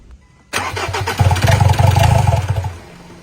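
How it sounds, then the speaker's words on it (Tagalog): A Ford Ranger's engine cranks hard with a rapid, loud chugging rhythm for about two seconds, briefly catching as if about to fire, then dies away without starting; no one talks. "Kita natin na gusto talagang umandar ng engine pero hindi niya kayang tumuloy."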